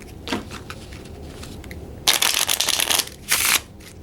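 Playing cards shuffled by hand with quiet riffles, then two loud, close bursts of fluttering card noise, the second shorter, over faint room hiss.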